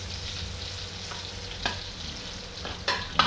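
Chili peppers stir-fry in a pan for a Thai cauliflower dish, giving a steady close sizzle broken by a few sharp scrapes of the spatula.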